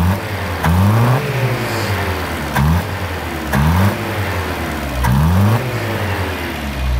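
A 1954 Volvo PV 444 engine being revved repeatedly at close range, four rising blips over a rough, uneven idle, each rev climbing quickly then dropping back.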